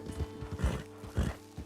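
A white Arabian horse in the Red Dead Redemption 2 video game snorts and whinnies in short rhythmic bursts, with hoof clops mixed in, close and fairly loud, no talk.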